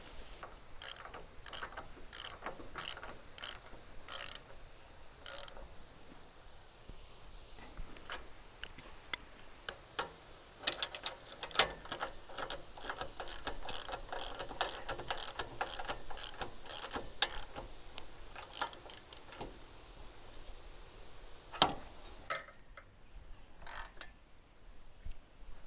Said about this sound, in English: So I'll get those put in and we'll bolt this all together.